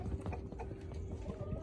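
Horses move about on a cold, frosty day, their hooves giving a quick, faint run of soft clip-clops at a distance against low background noise.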